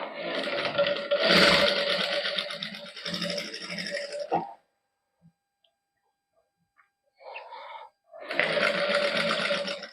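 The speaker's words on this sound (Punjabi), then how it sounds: "ਹੁਣ ਇਹਦੇ ਨਾਲ ਨਾਲ ਇੱਥੇ ਸਲਾਈ ਲਾ ਦਾਂਗੇ" A sewing machine stitches a lined shirt neckline in steady bursts of rapid whirring stitches, pausing for a few seconds in the middle with a short burst before resuming, close and clear without talk.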